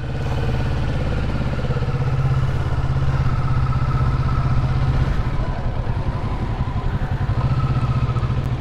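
Several motorcycles cruise together on a long-distance road trip to Cebu, a steady loud engine drone with wind rush running continuously and close by, with no talk.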